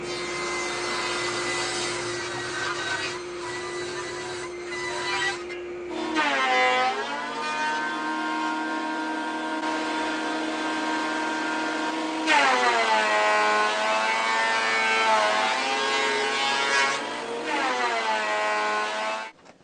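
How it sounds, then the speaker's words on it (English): A wood planer runs steadily with a dust collector roaring alongside, shavings being fed through; the pitch sags and rises as boards enter and leave, the machine noise loud and continuous with no voices. "These big planer shavings sure fill up a dust collector fast."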